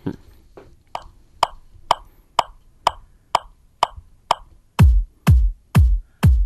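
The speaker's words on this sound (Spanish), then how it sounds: "en su mayor parte coincide metrónomo y bombo" Steady kick drum thumps land on the beat alongside the sharp clicks of a metronome, about two per second, with the drum hits growing heavier and louder toward the end.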